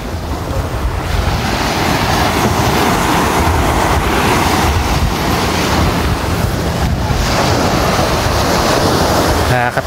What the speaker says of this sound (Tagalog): Nakakatakot yung alon.